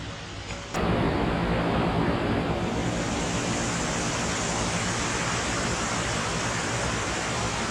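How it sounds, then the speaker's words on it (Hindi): Waterfall at the Kalpeshwar Mahadev temple in Uttarakhand's Urgam Valley, a steady loud broadband roar of falling water that swells after the first second and holds constant and close throughout. "ये देखिए क्या खूबसूरत झरना है।"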